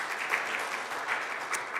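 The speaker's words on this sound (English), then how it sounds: "Thank you for applauding them." A church congregation at a Sunday morning service applauds, a steady, fairly faint wash of clapping from many hands that holds evenly throughout with no voices over it.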